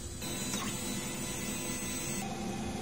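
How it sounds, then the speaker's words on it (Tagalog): A DTF printer runs a normal head cleaning cycle, producing a steady mechanical whir and hum throughout with faint shifts in tone, close by and without speech. "Sa pag head clean, pindutin lang natin yung clean, normal, heads."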